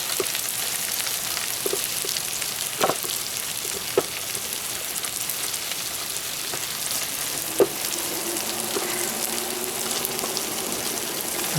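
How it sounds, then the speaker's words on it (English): Cauliflower in balsamic vinegar sizzles steadily in a pan as it cooks down, a dense, even hiss broken by a few sharp pops and one brief stirring scrape. "let the balsamic cook down just a little bit more"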